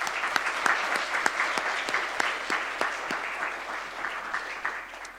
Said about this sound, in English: So can we give them a round of applause, too?